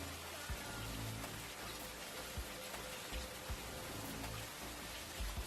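Heavy rain falls steadily during a thunderstorm in Germany, a dense, even hiss of drops on surfaces with faint low thumps, heard from a distance and without speech.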